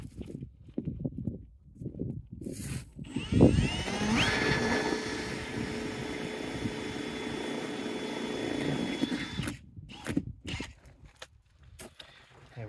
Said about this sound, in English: I'm gonna start drilling the pilot hole